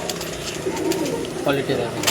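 Pure Hazarwala pigeons coo at a home loft. Soft, low rolling coos rise twice against a background hum, fairly close, with a person talking nearby.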